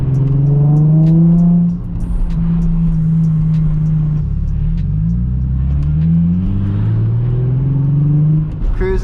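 A Nissan 350Z cruises through town with a deep, close engine rumble that rises and falls through gear changes, giving a steady throaty note with rising and falling pitch sweeps.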